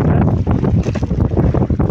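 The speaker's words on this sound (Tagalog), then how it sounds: "malakas yung hangin at ulan" Strong wind and rain buffet a small fishing boat out on the water in bad weather, a loud continuous roar of wind against the microphone with constant rushing and gusting close by, no voices.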